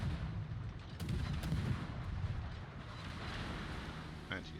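Naval artillery from the ship Smaland booms in World of Warships, a heavy rumbling barrage of overlapping low blasts and crackle over the steady drone of the sea, fairly loud.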